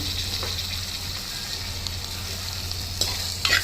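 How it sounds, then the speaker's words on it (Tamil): Ginger-garlic paste and tomato sauté in a pan for seeraga samba chicken biryani, giving a steady, close sizzle with a few stirring scrapes near the end and no talking. "அதையும் போட்டு நல்லா வதக்கி இஞ்சி பூண்டு வதங்கினோடனே தக்காளி"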